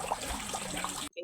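Raw fish being rinsed under a running tap while making ginamos, a steady broadband splash of water that runs without a break for about a second and then cuts off abruptly, followed by a brief faint clatter.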